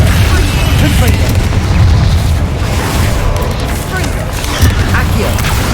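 Repeated Confringo and Flipendo spell impacts in Hogwarts Legacy boom and burst loudly in close succession, over a dense, rumbling combat din.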